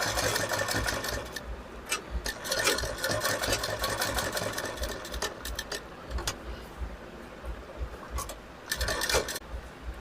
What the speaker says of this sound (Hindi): और उसके बाद फिर सिलाई लगाता चला जाऊँगा इस पर। बिल्कुल सावधानी से सिलाई लगेगी, कोई जल्दबाजी नहीं,